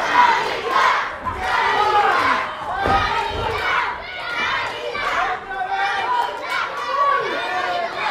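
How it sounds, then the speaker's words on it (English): A packed wrestling crowd at a UK venue cheers and chants for a wrestler, rhythmic shouted chants rising and falling loudly, with children's voices mixed in. "we have a very full crowd here at the spotlight in Hoddesdon, all cheering for Danny Black"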